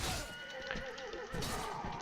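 A horse whinnies loudly during a medieval tourney battle in the Mount & Blade Warband mod A Clash of Kings, the neigh set against dense, continuous combat noise.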